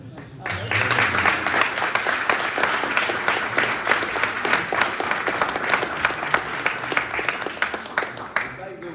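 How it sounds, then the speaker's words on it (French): An audience at a French talk on exoplanets and Mars breaks into applause, many hands clapping in a dense, lively burst that continues steadily for several seconds, with a voice faintly present at moments. "ça vaut des applaudissements"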